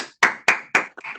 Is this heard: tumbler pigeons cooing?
no